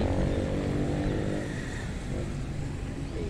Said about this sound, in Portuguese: moto miserável.